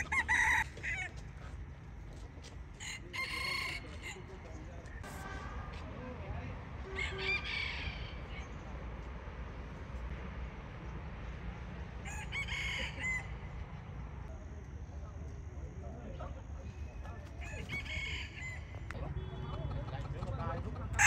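An F1 jungle fowl hybrid rooster crows repeatedly, loud and fairly close, with several bursts spaced a few seconds apart while people talk throughout.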